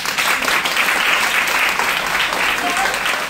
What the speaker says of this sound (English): Can you just have a huge round of applause for her?